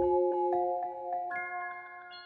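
A melodic sample run through delay and Portal effect plugins, with plucked notes ringing into sustained, shimmering tones that step upward, alone and moderately loud.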